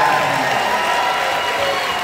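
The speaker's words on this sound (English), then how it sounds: "Let's give a big round of applause for the Roku channel for making it." Festival Q&A audience applauding in a theater, a dense, even patter of clapping through the whole stretch, fairly loud and unbroken.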